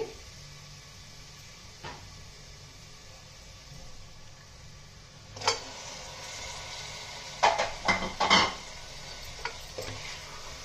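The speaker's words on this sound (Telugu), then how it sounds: "ఇప్పుడు దీంట్లో చికెన్ వేసేస్తున్నానండి." Chicken pieces drop into a pan on high flame alongside raw mango, then a spoon stirs and scrapes them. The result is a low sizzle punctuated by a burst of clattering stirs near the end.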